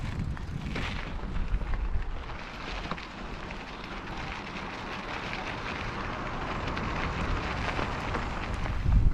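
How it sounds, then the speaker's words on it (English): Heavy rain with big drops falls steadily during a forest bike ride, a dense, continuous patter that stays close and fairly loud for the whole stretch, with no voices. "Big drops of rain as well."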